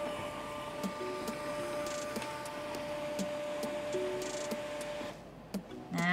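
An Elitech DS-PRO100 spirometer's built-in printer runs steadily for several seconds, a continuous whirring feed with faint rhythmic ticking, close by, then it winds down near the end with no talking.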